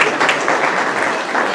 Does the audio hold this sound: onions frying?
no